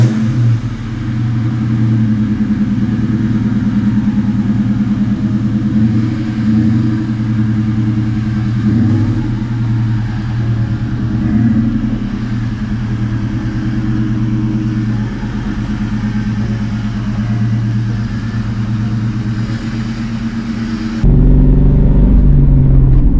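Steady low engine drone from a Ford Mustang with 3.73 gears while driving, heard from inside the car, loud and continuous with mild swells, ending in a deeper rumble.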